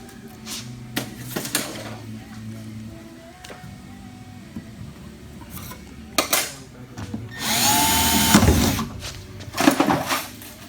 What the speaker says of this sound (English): I know JR's cringing up every time I drill his front end